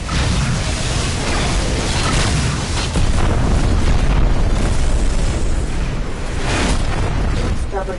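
Missile explosions in a video game form a dense, continuous roar of booms and blasts that stays loud and unbroken throughout.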